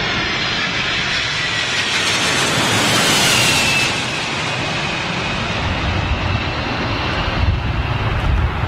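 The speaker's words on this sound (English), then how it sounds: "Here we go. Cathay Pacific 747 Freighter." A Cathay Pacific Boeing 747 freighter at a windy Heathrow gives a loud, steady jet roar that swells slightly partway through and carries on throughout, with no talking.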